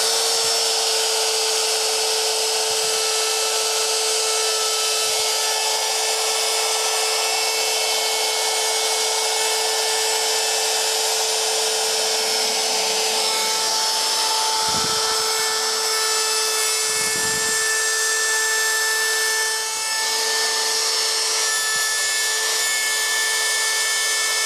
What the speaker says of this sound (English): put it in the router, and I'm going to cut another little pocket about 1/8 of an inch deep all the way down through here